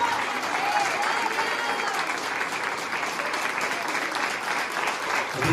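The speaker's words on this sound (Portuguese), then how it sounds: "Você pode aplaudir a Jesus?" A church congregation applauds during a Portuguese-language worship service, producing a sustained, even roar of many hands clapping together with no break, crowd-like and moderately loud.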